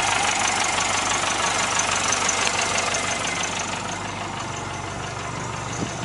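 A restored 1959 Mercedes-Benz 190SL with a 1.9-liter single-overhead-cam straight-four idles steadily and close by, giving a continuous rumble with a faint ticking texture and no talk.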